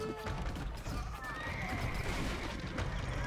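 Horse neighs in the Age of Empires video game, a bright whinny rising over a busy battle bed of hoofbeats and clatter, with a voice talking over the game audio.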